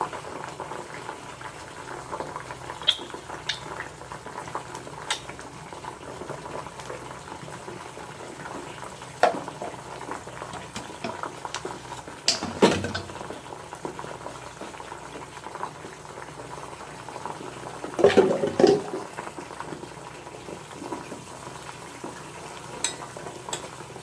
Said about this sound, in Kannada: ಆಲ್ಮಂಡ್ ಆಯಿಲ್ ಹಾಕ್ತಾಯಿದ್ದೀನಿ ಇವಾಗ